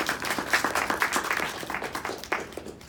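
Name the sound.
audience applause for table topic speakers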